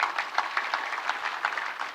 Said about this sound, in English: Please a clap to them.